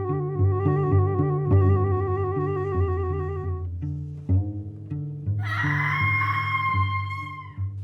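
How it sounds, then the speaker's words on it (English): A scream erupts in an audio drama, a shrill, strained cry breaking in partway through over a low, sustained droning musical bed that runs underneath throughout. "That screaming."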